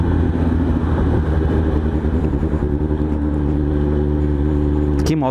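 Suzuki GSX-S750 motorcycle engine running loud and close, a steady rumbling drone with faint rising rev changes, ending in a brief clatter.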